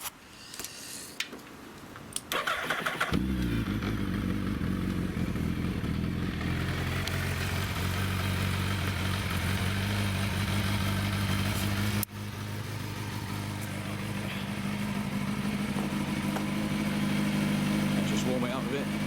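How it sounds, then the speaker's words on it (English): A Suzuki Hayabusa Gen 2 sport bike with fresh spark plugs starts after a few seconds of clicks and handling noise, then idles steadily close by with a rough, throbbing rumble, briefly dipping midway, while someone talks over it. "Warm it up a bit, it's new plugs in, it's all back together."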